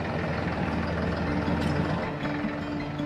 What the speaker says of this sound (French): Il ajuste la récolteuse montée sur son tracteur.